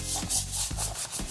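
A brush scrubs cleaner into the interior of a Mercedes GLE SUV in quick back-and-forth strokes, a rhythmic rasping swish repeated several times, loud and close with no talk.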